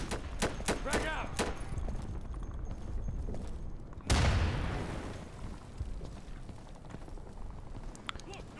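A frag grenade bursts in the game Insurgency, a single loud, sharp blast with a rumbling tail that follows a few seconds of scattered distant gunfire and clatter.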